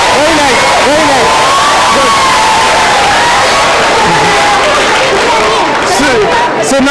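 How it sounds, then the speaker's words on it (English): Schoolchildren at a cleanliness workshop in a school hall clap and cheer as a loud, dense crowd, with excited shouting and voices running through the whole stretch. "Clapping for him, please."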